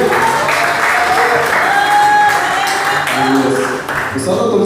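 A church congregation at a Wednesday service claps in sustained applause to give glory to God, dense and close, with shouting voices and music tones mixed in.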